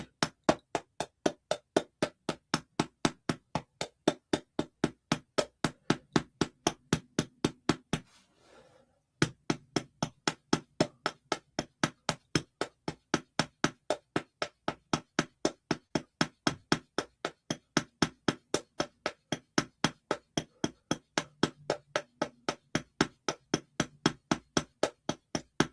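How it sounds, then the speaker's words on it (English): Steady, rapid knocking from a room heater repeats evenly throughout, loud and regular, with one brief pause partway before the knocking resumes at the same pace. "if you hear a noise, that's the heater"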